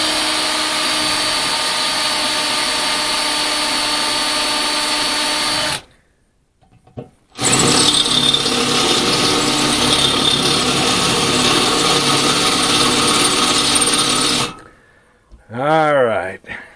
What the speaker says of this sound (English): let me finish drilling these out